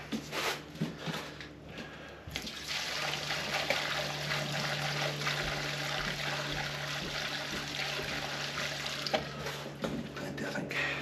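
Gasoline poured from a 5-gallon container jug into a 1935 Austin 7, a steady liquid gush and trickle after a brief quieter start, heard close and continuing to the end.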